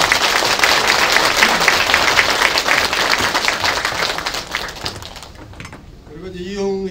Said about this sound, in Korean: 그분들께 한번 박수를 먼저 한번.